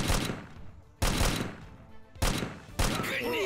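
Enemy gunfire in Precursors arrives as four sharp separate shots at irregular intervals, each with a quick decaying tail, and a faint voice is heard near the end.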